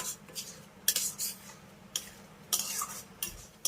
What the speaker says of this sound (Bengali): আবারও এই চালটাকে মশলার সঙ্গে দুই মিনিটের মতো কষিয়ে নেবো